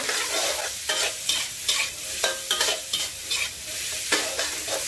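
Vegetables stir-fried in a pan for fried rice with naem, a steady close sizzle broken by repeated scraping stirs of the spatula every second or so, with no talking.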